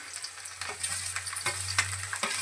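Onion sizzles in hot oil as a tempering, a constant crackle with occasional sharper stirring scrapes, close by, over a faint low hum.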